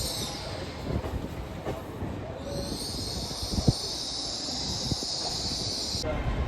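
A Class 802 passenger train, unit 802 203, pulls out of Carlisle station, rumbling low with a high metallic wheel squeal rising partway through and a few sharp knocks.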